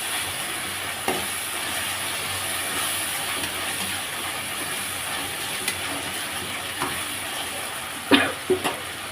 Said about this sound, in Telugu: ఇప్పుడు అల్లం పేస్ట్ వేసాను వేసి ఒకసారి మిక్స్ చేసుకుందాం